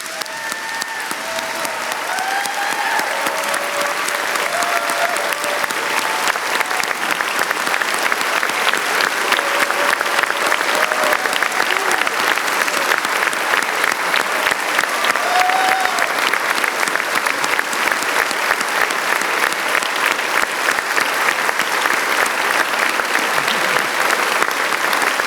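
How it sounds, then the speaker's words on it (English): A large audience at an academic awards convocation applauds steadily for about twenty-five seconds, a dense, even wash of hand claps that swells slightly after the start, with a few faint voices or cheers rising above it. "Can we please give Kim a round of applause?"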